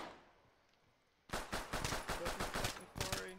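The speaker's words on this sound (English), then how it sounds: "I'm shooting the window below you." Video game gunfire breaks a quiet low background with a sudden burst of rapid automatic shots, about eight sharp cracks in quick succession, loud and close.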